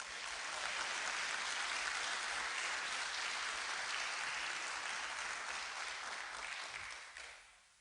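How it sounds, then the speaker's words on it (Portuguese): A church congregation bursts into loud, sustained applause that carries steadily for several seconds before fading out at the end. "Aplauda o Senhor."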